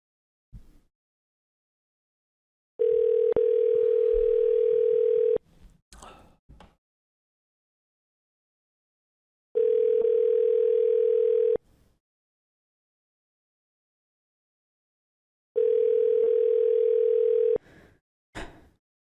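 Three steady bursts of a telephone dial tone after a call is hung up, each lasting about two to three seconds with silence between, plus a few faint clicks.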